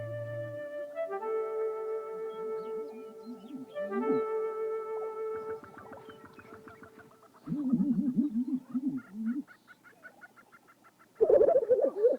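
Prairie chickens calling at a lek on the open grassland: a run of clucking, cackling and hooting calls, some drawn out and some in quick chattering bursts, fairly close, with no talking.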